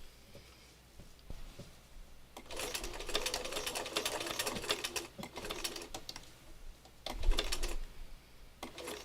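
A sewing machine stitches fabric in a quiet room, running in short continuous bursts of rapid needle clatter after a brief near-silent start, with small pauses between runs.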